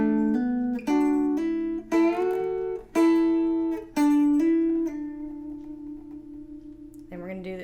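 Guitar lick, played with a string bend, hammer-ons and pull-offs: a run of clear, close, single plucked notes in quick succession, ending on one long ringing note that fades before a final short phrase, with no talking.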